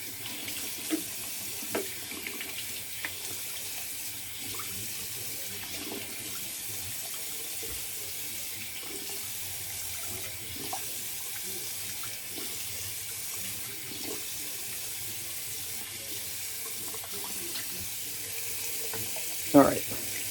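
Cold water runs steadily from a tap into a bathroom sink during a wet shave. The stream is continuous and close, with small clinks near the end.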